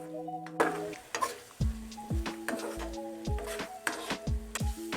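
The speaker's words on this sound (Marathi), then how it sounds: "आता या हिरव्या वाटणाला पण चांगलं परतून घ्यायचं आहे" Green masala paste for tawa mutton is sautéed in a pan, with a light sizzle and intermittent scraping and stirring clicks from a utensil, heard close up alongside someone speaking.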